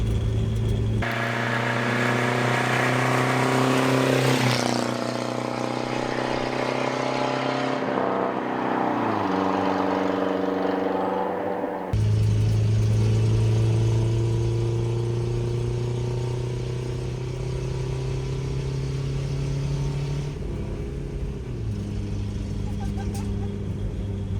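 A 1979 MG sports car engine, run after decades of sitting, revs hard and steadily around 4,000 RPM, its droning pitch climbing and dropping through shifts, loud and close throughout.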